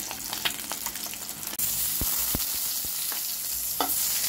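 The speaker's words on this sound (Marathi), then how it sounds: "याच तेलात मी बटाटे सोडणार आहे फ्राय करायला" Potatoes frying in oil in a pan after eggs were fried in it: a sizzle that jumps to a loud, dense, continuous hiss as the potatoes drop in, with a few soft knocks of stirring, and no talk.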